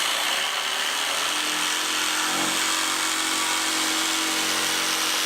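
A power saw fitted with a narrow blade with large teeth cuts continuously, a loud, close, steady whine and buzz lasting throughout without pause or talk.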